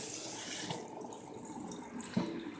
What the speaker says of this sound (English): you're going to run a little bit of cool water